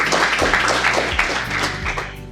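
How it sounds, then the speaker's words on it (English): An audience breaks into a loud round of applause, with dense, close clapping and a few sharp thumps, holding steady before easing slightly toward the end. "That deserves a round of applause."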